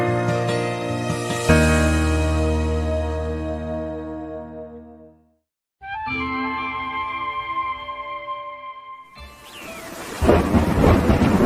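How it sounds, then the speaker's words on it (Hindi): Cartoon rain and thunder in a forest: a loud rolling thunder rumble fades into a short silence, then steady rainfall with a tonal music-like layer returns, ending in a burst of heavy noisy rain. "जंगल में अभी बारिश हो रही है।"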